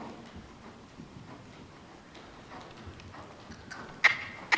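A ridden horse moves in a riding lesson, its hooves giving faint, soft rhythmic thuds over quiet background noise, with a couple of sharper clinks near the end.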